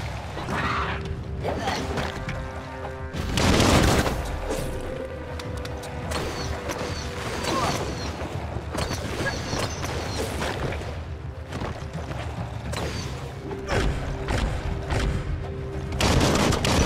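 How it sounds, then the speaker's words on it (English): Bursts of gunfire and thudding impacts fill a Biomutant video game firefight, loud and continuous over a busy, cluttered background with occasional heavier booms. "Bullets everywhere."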